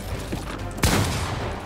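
A burst of gunfire in the Fortnite video game: one sharp loud shot rings out partway through over a steady background of game noise, with no talk.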